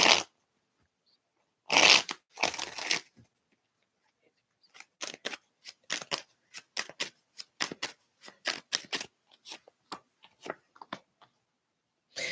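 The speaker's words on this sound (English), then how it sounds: "I'm going to shuffle these all the way out" Tarot cards being shuffled, a loud riffle near the start followed by many short, crisp slaps and flicks in an uneven rhythm, with quiet gaps between bursts.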